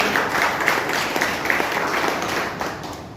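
An audience at a product presentation claps in a brief, fairly loud round of applause, with individual hand claps standing out over the steady patter.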